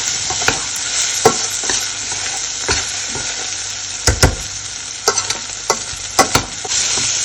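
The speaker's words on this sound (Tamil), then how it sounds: "கீழே அடி பிடிக்காமல் இருக்கிறதுக்கு கொஞ்சம் பிரட்டிக்கொண்டே இருப்போம்" Fenugreek curry frying in sesame oil sizzles steadily in a pan while a utensil stirs it, giving repeated scraping knocks at an uneven rhythm, close and clear with no talking.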